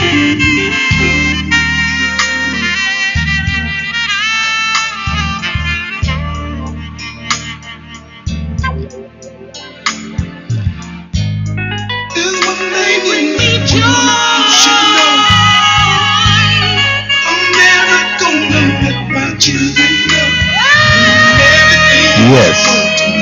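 R&B soul song plays throughout as a full mix of instruments and vocals at a strong, steady level.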